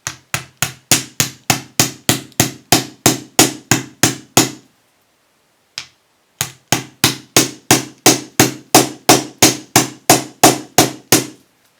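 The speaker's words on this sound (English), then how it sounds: "hammer the very, very end and spread the wire out" Steady metallic hammer blows flattening the end of a jewellery wire, about two per second, in two long runs separated by a brief pause with a single strike. Close, sharp and loud, no talking.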